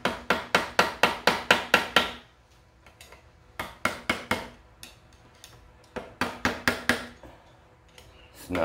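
A small hammer taps a part down over the impeller of a 2017 Yamaha 115 SHO outboard motor, sharp close taps in quick bursts of six or seven, separated by short pauses.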